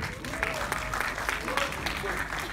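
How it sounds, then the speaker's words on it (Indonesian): Audience applauding the cast, director and producer of the short film Makmum at an evening event, a short burst of crowd clapping with a voice speaking over it. "Boleh berikan sekali lagi tepuk tangan untuk seluruh narasumber saya malam hari ini"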